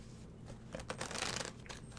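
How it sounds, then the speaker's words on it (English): Tarot cards are shuffled close by, a soft quiet riffle with a few quick papery flutters and taps. "Shuffle and cut, I guess."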